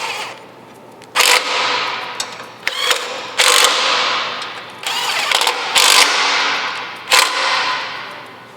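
A ratchet tightens the fog light bolts on a Rigid modular bumper on a 2021+ Ford Bronco. Close, crisp clicking runs in several bursts of rapid strokes, separated by brief pauses, with no talking.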